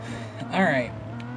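A racing car engine in the video game Gran Turismo Sport swells briefly into a rising rev over a steady low drone, then settles back.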